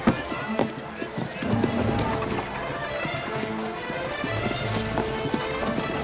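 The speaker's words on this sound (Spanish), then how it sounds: "Un caballo puede llevar a 2 hombres armados a la máxima velocidad." Horses gallop hard, each carrying two armed men, with a dense, rapid clatter of hooves across the whole stretch, loud and near, with shouting voices mixed in.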